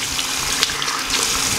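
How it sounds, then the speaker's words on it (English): Running tap water splashes as cleanser is rinsed off a face at a sink, a steady close gushing hiss with small splashes and no talking. "So I'm just going to quickly rinse this off."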